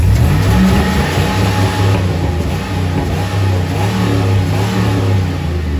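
A Chevy 4x4 Camaro engine runs loud and close right after a jump start, its steady mid-pitched rumble swelling and easing in revs throughout with no voices.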